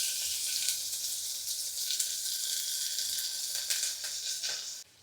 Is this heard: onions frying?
yes